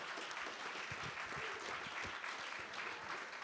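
An audience at a full moon ceremony breaks into steady, dense applause, continuous clapping at even strength throughout without voices standing out.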